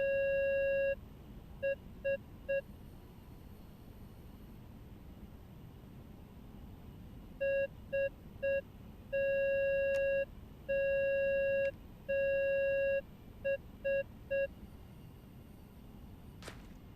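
Morse code beeps from a transmitter in the WWII VR game Medal of Honor: Above and Beyond: a clear steady tone keys out short dots and longer dashes in bursts over a faint hiss, alone.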